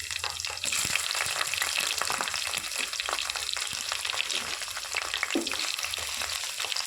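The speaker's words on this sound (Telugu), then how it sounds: "ఇప్పుడు దొండకాయలు వేస్తున్నాను నూనెలోకి" Ivy gourds frying in hot oil with onion and garlic paste while being stirred, a steady close sizzle with scraping stir sounds throughout, no voices.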